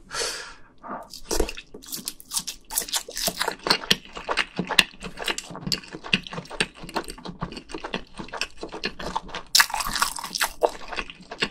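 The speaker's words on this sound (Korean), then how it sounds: "한입 먹었어요." Someone eating very spicy Korean fire noodles, 3x spicy Buldak stir-fried noodles, up close: wet slurps, chewing and crunchy bites in quick irregular bursts, with occasional breaths and no talking.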